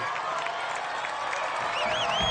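Crowd cheering and clapping at an American Ninja Warrior course as a competitor works through an obstacle, a sustained roar with whoops rising near the end, under a commentator's voice.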